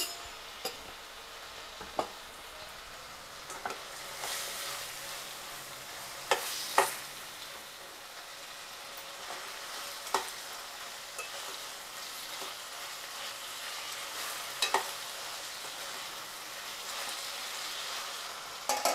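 Chicken frying in a pan with turmeric as the water cooks off, a steady soft sizzle with occasional sharp spits and pops from the pan, no talking.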